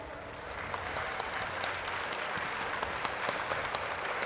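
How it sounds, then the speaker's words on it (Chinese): A large audience at a Taiwan National Day celebration ceremony gives warm applause after a performance by a visiting Japanese group: dense, sustained clapping from a big crowd, heard at a moderate distance. "让我们再次以热烈掌声谢谢这群特地从日本远道而来的翡"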